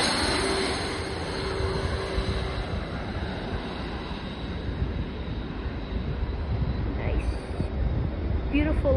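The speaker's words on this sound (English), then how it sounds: "There's a train over there." A distant train rumbles steadily near O'Hare airport, a broad low roar that holds evenly throughout, with faint higher tones passing briefly near the end.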